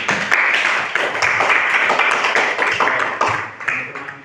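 Students in a classroom at a vocational high school clap by hand, with uneven, distinct claps close by that form a short, lively burst rather than a smooth roar.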